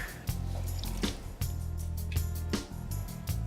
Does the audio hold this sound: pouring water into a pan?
yes